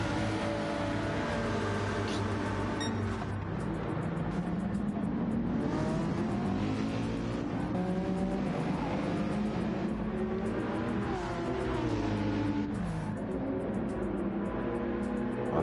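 Several GT race cars in a sim racing game roar down the back straight at Canada, engines droning loudly with rising and falling pitch as they accelerate and run nose to tail in the slipstream, continuous throughout.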